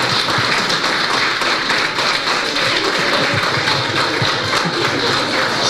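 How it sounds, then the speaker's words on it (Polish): An audience applauds child actors after a Christmas nativity play at a Franciscan children's aid centre in Głubczyce, a dense, steady run of many hands clapping close by for several seconds. "I brawa, myślcie, do naszych cudownych aktorów."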